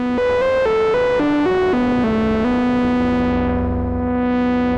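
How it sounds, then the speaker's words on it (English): A distorted synth line from a Neutral Labs Elmyra2 steps through several held notes, then sustains one tone while a weird spring-reverb-like metallic wash swells and bends over it. "Like a really weird spring reverb."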